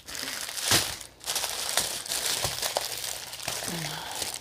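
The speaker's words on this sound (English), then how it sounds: "I am done crinkling." Plastic packaging for a Fuji Flora is crinkled and crumpled by hand in an unboxing, with close, irregular rustling bursts and a brief low voice partway through.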